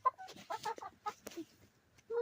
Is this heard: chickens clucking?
yes